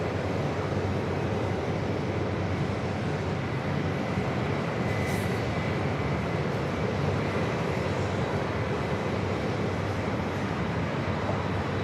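Atlas Air flight 8977 from Anchorage coming in to land on runway 4 left at JFK airport in New York, a steady broad jet roar heard from a distance, unbroken and even throughout, with no voices.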